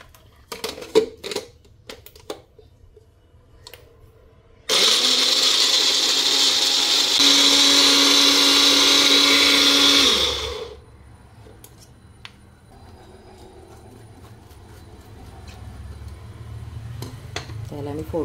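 A kitchen mixer grinder whirs loudly and steadily for about five seconds as it grinds coconut, garlic, green chili, coriander, salt and sugar. Soft clatter and handling noises come before and after.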